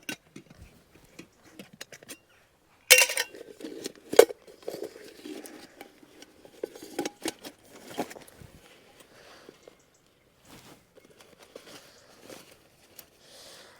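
Camping cookware is handled up close during a motorcycle camping trip: scattered metallic clinks and light knocks from a deep frying pan and gas burner, irregular and fairly quiet, with pauses between bursts.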